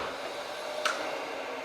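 A workshop dust collection vacuum runs as a steady broadband whoosh, with a brief sharp click near the middle, constant and fairly loud throughout.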